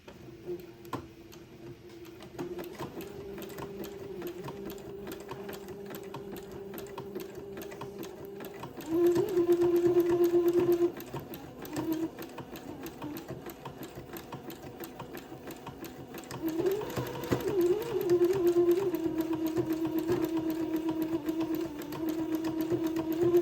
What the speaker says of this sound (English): And then I'm going to zigzag this seam into place, catching the fold of the fabric on the left and the entredot hole on the right.